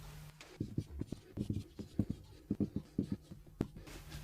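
A teacher writes out French verb forms by hand, making a quick series of soft scratching strokes and taps at close range with faint background noise.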